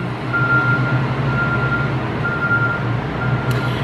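A garbage truck rumbles past steadily with its reversing alarm beeping in slow, evenly spaced tones over the heavy engine drone.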